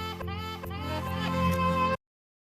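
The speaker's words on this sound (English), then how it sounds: "we have all these little chopped up saxophone moments that sound like this" Chopped-up saxophone samples in a lofi track play as short melodic fragments over a slowly building riser, then cut off abruptly into silence.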